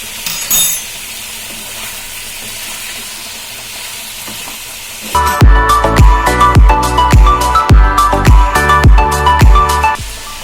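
Mutton pieces with salt and spices are stirred in a frying pan, beginning after a quiet stretch with loud, rhythmic scraping strokes of a spoon against the pan, repeating steadily over a sizzling background.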